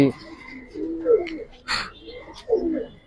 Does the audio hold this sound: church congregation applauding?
no